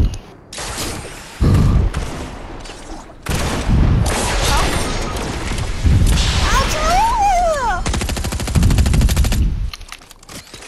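Rapid gunfire bursts while trick-shotting in a shooter video game, loud and close, broken by short gaps, with game effects and a sweeping tone in the middle, and a voice talking over parts of it.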